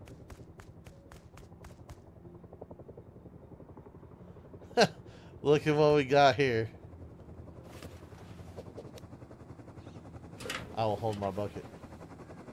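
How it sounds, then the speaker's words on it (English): A helicopter in the video game Rust drones steadily and faintly in the distance, a low continuous hum under a man's intermittent speech. "I hear a helicopter."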